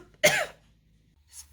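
One sharp, close cough followed by a fainter throat sound a moment later, with near silence around them.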